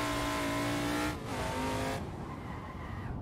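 Adam LZ's RTR Ford Mustang drift car in Assetto Corsa on an airport drift track, engine roaring at high revs with tires squealing, then cutting sharply to a quieter rumble partway through.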